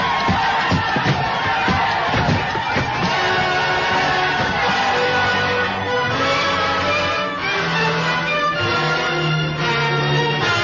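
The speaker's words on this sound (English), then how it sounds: "The crowd outside, they're pouring through the gate." A radio drama crowd scene of people pouring through a gate, a continuous murmuring and shouting mass of voices with a few louder individual calls, mixed under music.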